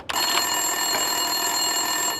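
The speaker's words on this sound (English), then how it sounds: "Winterson's phone was ringing." An office desk telephone ringing in the video game Max Payne 2, a steady electronic ring that starts abruptly and continues unbroken and fairly loud, with no voices over it.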